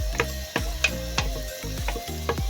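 Beef heart fries in a pot under a steady sizzle while a utensil scrapes and stirs through it, giving several sharp, close clacks and knocks at an uneven pace, with no speech.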